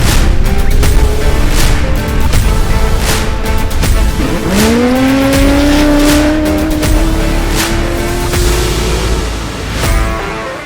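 Number 44 Gymco off-road race buggy charging through dust on a race course, loud engine revving and rising through gears with sharp bursts and crackles, passing close over several seconds.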